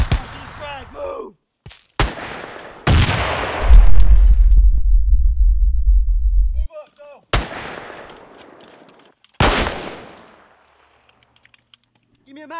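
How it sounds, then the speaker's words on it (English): Gunfire and a grenade explosion in a WW2 short film: sharp close gunshot cracks, then a long loud rumbling blast, followed by more scattered heavy shots fading out, with no talk. "Grenade out!"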